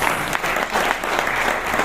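Audience applause welcoming a CEO on stage at a sustainable energy forum, a loud, dense burst of clapping filling the room with a slightly pulsing rhythm for its short length.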